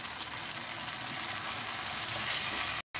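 Chicken white karahi fries in a pan with a dense, steady sizzle of hot oil, loud and close, continuing without talk until a brief drop near the end.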